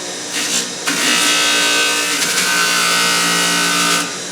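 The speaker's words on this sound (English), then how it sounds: "Just taking the burr off." A metal blank die for hubbing gets its edges deburred, a steady loud grinding whine running continuously for several seconds after a brief start, with no one speaking.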